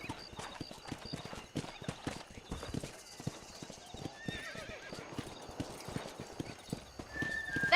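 Hooves clip-clop steadily as a rider in Red Dead Redemption mounts up to move cattle at a farm, with rhythmic hoofbeats, a horse whinnying and faint voices in the background.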